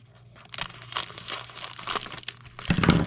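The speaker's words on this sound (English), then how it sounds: "So I'm going to go ahead and cut this bag as well." Thin plastic MRE pouch being cut open and crinkled, a soft scraping cut followed by a louder burst of close crackling plastic at the end, with no voices.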